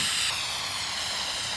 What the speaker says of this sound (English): So I guess let's just start spraying